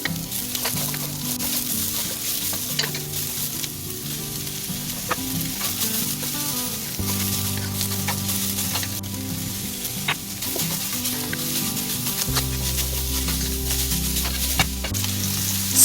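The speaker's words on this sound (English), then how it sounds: "Stir continuously to avoid food burning or sticking to the bottom of the pan." Hakka noodles stir-frying in a pan, a steady dense sizzle with scraping and clanking of the spatula against the pan throughout, close up and without talk.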